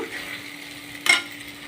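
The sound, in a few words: stirring curry in an oiled pan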